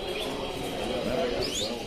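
Yellow canaries chirp and warble during a bird-judging competition, with short bright tweets over a steady murmur of voices in a busy indoor room.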